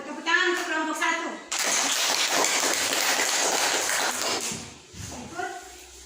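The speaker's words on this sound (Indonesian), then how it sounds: "Kita beri aplaus untuk kelompok 1" Classroom applause for a student group during a fractions lesson, a dense burst of clapping lasting several seconds, framed by a teacher's speech before and after.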